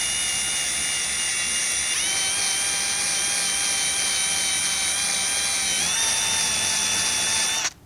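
Power tool fitted with a rubber eraser wheel, running at low speed to remove adhesive from car paint, giving a steady high whine with slight pitch shifts, close and continuous until it cuts off.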